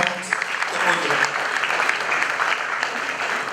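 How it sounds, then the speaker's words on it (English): Audience applause at a school graduation ceremony as student dance performers come out, a steady, fairly loud wash of clapping with some crowd noise mixed in. "Please, a round of applause for them as they come out."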